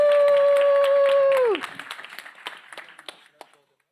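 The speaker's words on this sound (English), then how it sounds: "Another round of applause." An audience at a youth conference claps as a held electronic tone drops away, the scattered clapping then thins out and fades to silence.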